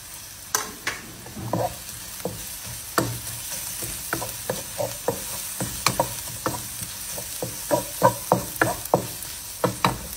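Garlic and onion fry in a pan for pork adobo, a soft sizzle running underneath while a utensil scrapes and stirs in repeated sharp strokes, loud and close.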